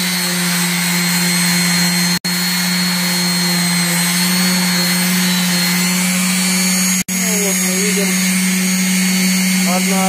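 A power tool polishing a steel file being made into a homemade PDR tool, a steady high whine that runs continuously with two abrupt breaks, while someone talks over it.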